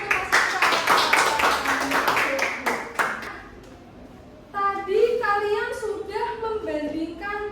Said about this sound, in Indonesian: Beri tepuk tangan untuk Mas Ihsan.